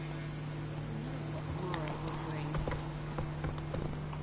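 Horse hooves clip-clop at a trot in The Witcher 3, a steady rhythmic patter over a constant low game hum, with a voice talking in the middle.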